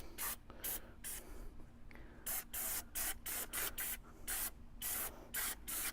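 Amsoil engine degreaser sprayed from a pressurized aerosol can over a car engine bay, in a series of close, loud hissing bursts of varying length separated by short pauses, with a faint steady hum underneath.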